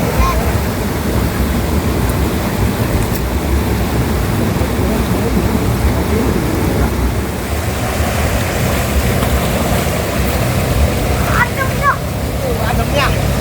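River water rushes continuously beside a riverside cooking spot, a steady broadband flow with some wind buffeting the microphone and a brief faint voice near the end.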